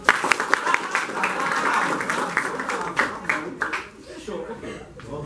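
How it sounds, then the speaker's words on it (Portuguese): Lecture audience at a talk on music, dance and theatre clapping in a loose, uneven burst, individual claps distinct, with a brief lull and a renewed patter near the end; voices murmur underneath. "Vamos aplaudir. Vamos aplaudir mais tempo."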